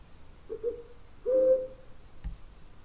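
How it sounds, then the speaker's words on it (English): AI-generated owl hooting: two low, soft hoots sound alone against a quiet background, the second longer and louder, followed by a faint thud. "So I did an owl hooting, and it gave you a couple different options."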